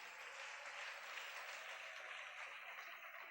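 A church congregation at a Sunday worship service applauding, a steady wash of clapping from many hands that sounds somewhat distant and stays even from start to finish.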